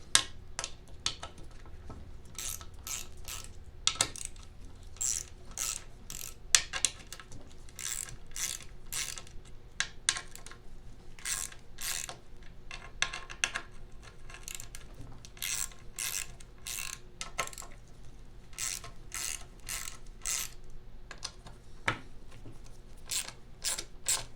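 A ratchet wrench breaks loose the differential bolts on a Snapper rear-engine riding mower, giving rapid repeated ratcheting clicks in steady bursts throughout, close and clear.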